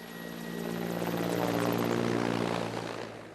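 A Soviet-era military helicopter passes directly overhead, its engine and rotor drone swelling loud and steady before fading slightly, heard alone with no talk.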